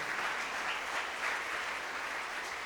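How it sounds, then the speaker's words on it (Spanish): A church congregation claps steadily, a dense, even applause that holds at the same level throughout. "¿Por qué no le da un aplauso a Él esta mañana?"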